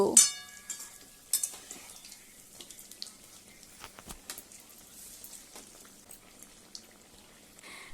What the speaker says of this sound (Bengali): পকোড়াগুলি লাল হয়ে এলে উল্টে অপর পিঠটি ভেজে নেব।